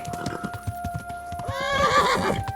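A horse in Kingdom Come: Deliverance gives a loud whinny over a steady clip-clop of hooves, with a high sustained tone running underneath.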